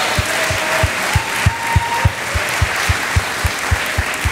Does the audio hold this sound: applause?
yes